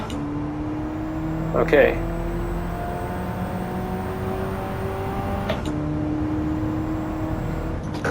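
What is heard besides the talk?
race car driving and trail braking in Gran Turismo 7 video game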